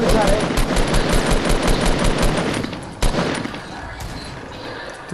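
Rapid bursts of automatic gunfire in a Fortnite Battle Royale match, loud and dense at first, then thinning into scattered shots, with players talking over the shooting.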